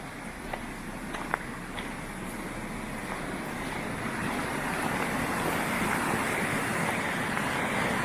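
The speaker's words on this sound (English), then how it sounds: "Certainly got some melting snow running down this little stream that goes across the lane." Steady rush of snowmelt running in a small stream across a lane, continuous and fairly close, with a few faint knocks and no voices.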